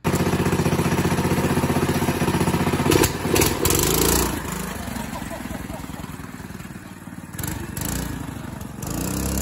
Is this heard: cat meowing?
no